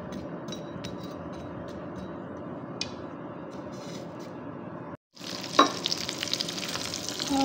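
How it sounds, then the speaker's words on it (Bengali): Dried fish (shutki) frying in a pan gives a steady, moderate sizzle with light crackles, a short break, then a brighter, louder spurt of hissing sizzle as cooking resumes. "শুটকিগুলো আগে ভেজে নিব।"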